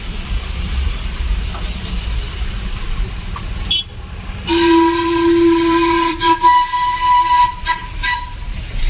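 The Darjeeling toy train sounds its steam whistle, a loud sustained piercing tone that runs for several seconds and breaks into a few shorter blasts, over rumbling and hissing noise from the railway.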